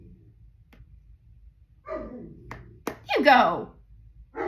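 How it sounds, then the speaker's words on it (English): A pet dog indoors at home lets out a few short, sharp barks in two quick bursts, fairly close and loud, while someone talks nearby. "Ooh, ooh, there's barking."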